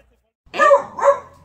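A dog gives two sharp barks in quick succession, loud and close, with an indoor room tone before it and nothing else alongside.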